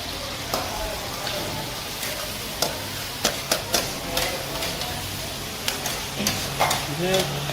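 Tomatoes sizzle and fry in a chicken karahi pan for a Peshawar-style charsi karahi, with a steady crackling hiss broken by repeated sharp clanks and scrapes of a stirring spoon against the metal, and a voice briefly heard.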